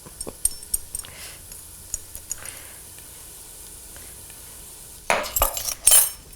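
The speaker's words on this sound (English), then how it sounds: "And just stir that around." Onions and garlic stirred in a cooking pot for split pea soup, a spoon scraping and clinking against the pot in scattered taps, with a soft low sizzle, then a louder burst of scraping and clattering near the end.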